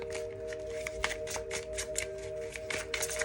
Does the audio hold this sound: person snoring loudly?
no